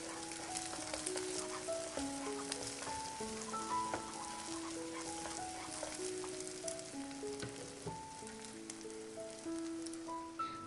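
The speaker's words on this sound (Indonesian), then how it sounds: "Pakai minyaknya jangan terlalu sedikit. Pastikan minyaknya cukup untuk mematangkan telurnya." Eggs fry in plenty of oil in a wok, a dense, steady crackling sizzle with scattered pops, close and even throughout, with soft music playing in the background.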